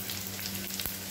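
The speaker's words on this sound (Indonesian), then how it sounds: "Kita tengah goreng ikan bilis dengan bawang." Anchovies and onion fry together in a pan for spinach, giving a steady close sizzle with soft crackles throughout and no talking.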